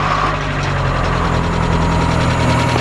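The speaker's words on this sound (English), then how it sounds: "Don't rev it, just let it idle." A turbocharged Mazda Familia with an AWD B6 engine idles in a steady, even burble that stays close and constant with no revving.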